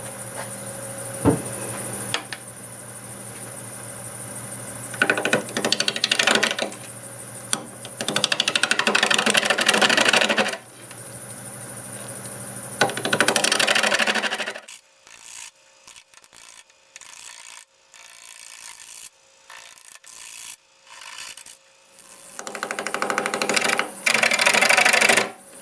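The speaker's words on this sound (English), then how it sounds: "I'm going to use the 1/2-inch bowl gouge" Wood turning on a lathe at about 760 RPM, a 1/2-inch bowl gouge cutting a live-edge drift boat bowl: loud bursts of scraping, rasping cut noise separated by quieter stretches of the lathe running alone, with no talk.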